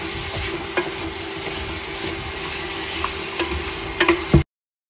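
Potatoes frying in a pan crackle with a soft continuous sizzle while a spatula stirs them, giving scattered scrapes and a few sharper clicks near the end, close and moderately quiet.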